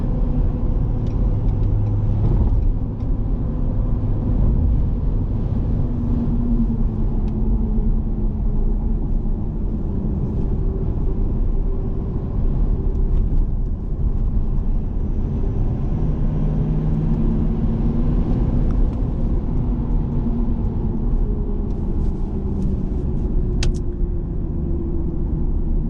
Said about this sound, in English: You hear that? Wheel spin. No traction. Too much torque in here.